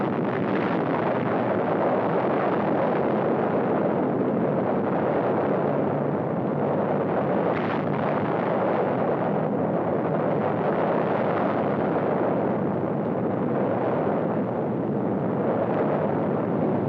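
Atomic bomb explosion recorded from about six miles away, a sustained loud broadband roar and rumble that churns steadily without letup, no voices.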